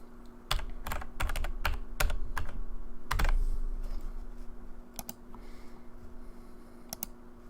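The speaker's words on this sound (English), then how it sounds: "So we type in our number" Clacking keystrokes on a computer keyboard come in irregular bursts of sharp taps over a steady background hum, close and fairly quiet.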